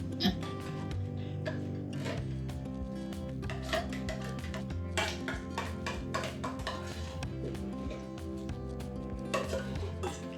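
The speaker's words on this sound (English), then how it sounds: "Mix the eggs and the pumpkin up." Eggs and pure pumpkin being mixed in a bowl for pumpkin pie, a run of close clinks and scrapes of a utensil against the dish, irregular and busy throughout, with no talking.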